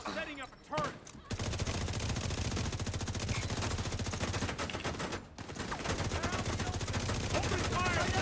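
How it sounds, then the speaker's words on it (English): A video game turret fires long, rapid, continuous bursts, loud and close. The firing breaks off briefly twice, and faint speech is heard underneath. "Setting up a turret."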